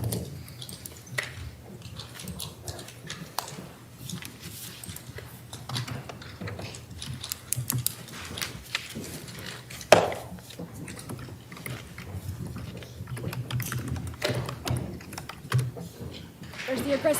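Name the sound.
someone typing hard on a computer keyboard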